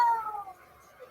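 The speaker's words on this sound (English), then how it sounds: "They know that their minute's up when they hear the sound of a kitty." A short cat meow, a single drawn-out falling cry, rings out as the time-up signal at a one-minute comedy set, moderately loud and alone, trailing off into quiet.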